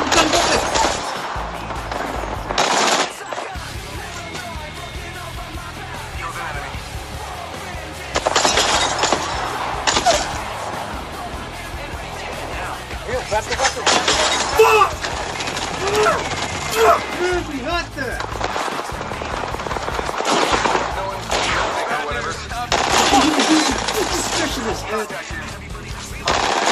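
Rapid bursts of automatic gunfire and single shots from the video game Apex Legends crackle loudly and continuously, with intermittent impacts and shattering sounds layered over game effects and brief speech throughout.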